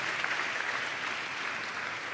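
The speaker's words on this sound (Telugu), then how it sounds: "చప్పట్లు కొడితే యేసయ్యకు స్తోత్రాలు చెప్తారు." A church congregation at a Christian sermon claps in sustained applause, a dense, even patter of many hands close by that continues without a break, with no speech.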